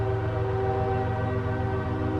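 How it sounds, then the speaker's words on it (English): A passing train sounds its horn in one loud, sustained, steady blast with a rumbling undertone, unbroken for the whole stretch with no voices. "Train."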